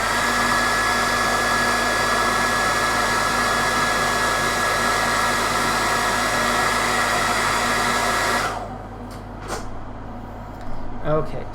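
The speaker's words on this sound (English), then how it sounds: "So I'm just going to hit this with a hairdryer." A hair dryer blows on a freshly painted miniature, a loud constant roar with a steady whine that runs for most of the stretch, then cuts off, leaving quiet room sound and a few small knocks.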